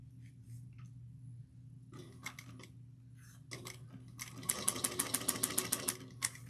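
A sewing machine stitches a tote bag in short bursts, then runs into a faster, louder stretch of rapid, rhythmic needle clatter near the end. No one speaks.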